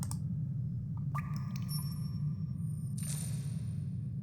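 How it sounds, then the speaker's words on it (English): A coin dropped down a sewer grate in the game The Black Mirror gives a few bright metallic clinks and taps, then a faint splash, over a steady low ambient hum. "I'll drop a coin down the sewer grate."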